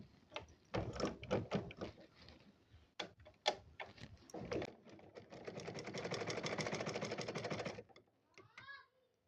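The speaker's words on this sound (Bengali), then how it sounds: "তো দেখো আমি কিভাবে এই কাপড়গুলা সেলাই করি।" Bursts of a sewing machine's rapid mechanical chatter while stitching knit fabric with a size 16 needle, stopping and starting, with a long continuous run near the end and a voice talking at the start.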